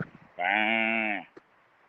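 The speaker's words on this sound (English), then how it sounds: "That's a sheep." A sheep on a winter farm gives a single sustained, strongly voiced bleat lasting about a second, close and clear against a quiet background.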